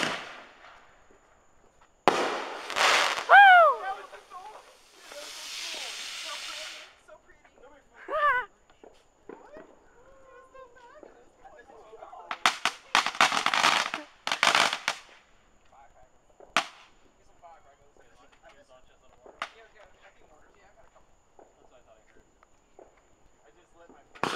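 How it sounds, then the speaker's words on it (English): Fireworks and firecrackers go off around a residential neighborhood in scattered sharp pops and crackling bursts, some in rapid clusters, with people talking and a voice in between and quiet gaps between volleys. "were the people in Grandma's neighborhood shooting more fireworks?"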